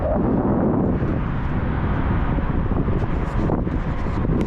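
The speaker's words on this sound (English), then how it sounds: "it's windy as hell too" Heavy wind buffets the microphone in a constant low rumble beside a freeway, with faint traffic noise underneath and no talking.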